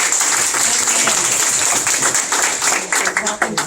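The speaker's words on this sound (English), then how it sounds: "Clapping for the one nay." Applause breaks out in a public health district board meeting after a motion vote, a loud, dense burst of clapping that thins and becomes more scattered toward the end.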